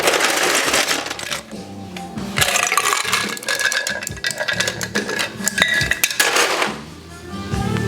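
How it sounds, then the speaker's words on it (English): Ice cubes dropped into a cocktail glass for a rum old fashioned clink and rattle in a dense cluster of bright, close knocks, then settle. "And now we're going to add a little bit of ice."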